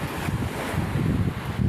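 Sea waves on a shore make a steady, broad rushing roar mixed with wind buffeting the microphone, with no clear single wave breaks and no voices.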